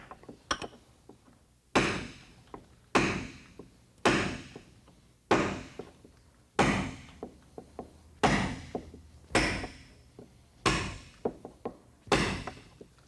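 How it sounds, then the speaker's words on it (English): A fiberglass quarter panel on a 1990s Corvette is split off along the door edge with sharp, repeated cracking impacts, about ten hard strikes at a steady rhythm, each followed by smaller snaps and rattles, close and loud with no talk. "we're going to come in here, and we're going to try and split this off right down this door edge"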